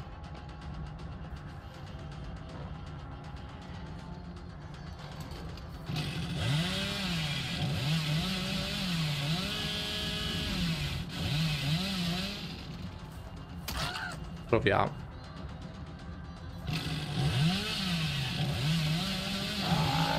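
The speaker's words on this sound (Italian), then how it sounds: "Prendiamo un po' di distanza con la motosega." Chainsaw revving in the video game Dead by Daylight, the Hillbilly killer's saw rising and falling in repeated wavering bursts over game ambience, with a brief spoken word and louder stretches midway and near the end.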